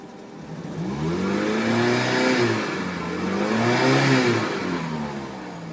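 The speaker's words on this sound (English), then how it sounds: "I'll just rev it a little bit for you." A car's 16-valve engine is blipped twice, each rev swelling up and easing back down in a steady, close, mid-pitched roar with no voices over it.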